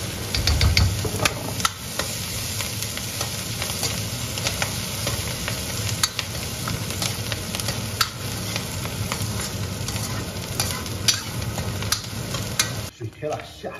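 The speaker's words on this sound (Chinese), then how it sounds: "葱花爆香，干红辣" Chopped scallions and dried red chili are stir-fried in a wok in a rural Gansu farmhouse kitchen, a continuous close oil sizzle with frequent scraping and clacking of a spatula against the pan.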